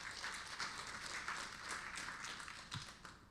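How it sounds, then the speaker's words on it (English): Sustained audience applause at a prize symposium, an even wash of many hands clapping heard from a distance, faint and steady throughout. "If we could have a round of applause for them."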